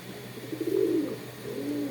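A pair of pigeons, a mix of local and Pakistani birds, gives low throaty coos close by, one rolling call followed by a second softer one, over faint background hum.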